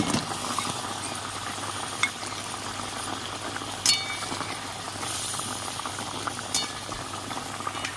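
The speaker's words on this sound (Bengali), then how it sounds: "ঝোলটা ফুটে উঠেছে আমি ধোকাগুলো দিয়ে দিচ্ছি" Gravy for dhokar dalna boils steadily in a pan as lentil cakes go in, a dense bubbling sizzle and hiss throughout with a few soft clicks and splashes, close and even.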